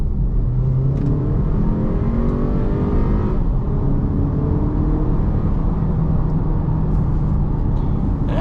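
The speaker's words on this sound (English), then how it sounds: "it's a pretty brisk acceleration from the Q3, not bad." A 2023 Audi Q3 in dynamic mode with automatic transmission accelerates hard from about 25 toward 60, its engine drone rising steadily in pitch through the gears, loud and continuous from inside the cabin.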